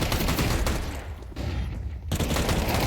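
Tec-9 pistols fire in dense, rapid bursts during a professional Counter-Strike match, with loud crackling shots clustered at the start and end around a brief quieter gap.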